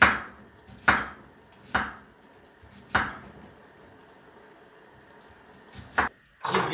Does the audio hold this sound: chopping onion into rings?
yes